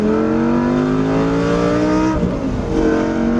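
A loud Lamborghini Gallardo engine revs high, then drops in pitch as the driver downshifts, with a short burst of throttle blips before climbing again.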